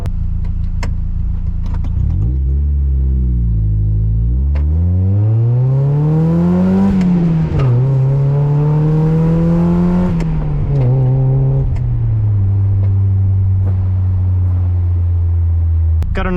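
A Mazda MX-5 Miata NA8 pulls hard down a street at night, its engine note climbing steadily through the revs, easing briefly, then rising again before settling back to a loud, close, steady drone with no talk.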